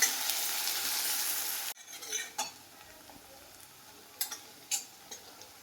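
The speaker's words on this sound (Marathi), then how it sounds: "कांदा छान परतून झाला आहे." Onion softly frying and stirred in a pan over a low flame, a steady sizzle at first that drops away into quieter scrapes and a few sharp clinks of a utensil against the pan.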